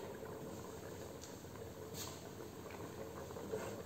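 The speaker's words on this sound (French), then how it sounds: "Donc là, vous voyez, ça mijote." Risotto simmers gently in a pan with a soft, steady bubbling and faint crackle. It is quiet and continuous, with no voices.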